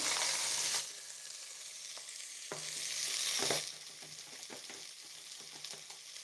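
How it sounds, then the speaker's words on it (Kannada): Onion, garlic and tomato sauté in a pressure cooker with a steady bright sizzle that swells and eases as a spoon stirs and scrapes the pot, close and alone. "ಈರುಳ್ಳಿ ಬೆಳ್ಳುಳ್ಳಿ ಟೊಮೆಟೊ ಬಾಡಿಸ್ಕೊಂಡ್ರೆ ಸಾಕು"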